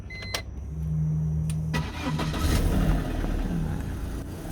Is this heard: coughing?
no